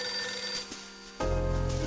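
A phone rings in the video game Last Window, an electronic ring repeating twice over a steady game backdrop, fairly clear and with no talk.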